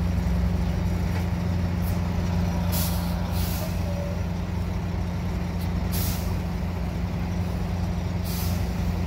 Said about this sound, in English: So I'm going to release the brakes.